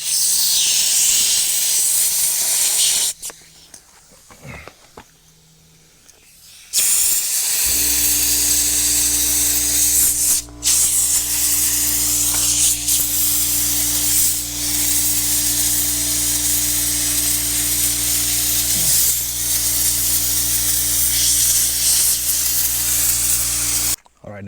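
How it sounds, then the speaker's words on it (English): Compressed air hose blasting debris out of a crack in concrete during a DIY repair: loud continuous hissing rush, briefly interrupted by a quieter pause before resuming with a steady motor-like hum beneath it. "I'm gonna take the air hose here."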